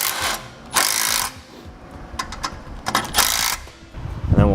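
A hand ratchet tightens the mounting bolts of an Air Lift LoadLifter 7500 XL air helper spring kit on a 2017 Chevrolet truck, alternating bolts evenly. The sound is a series of close, loud bursts of rapid clicking with short pauses between them.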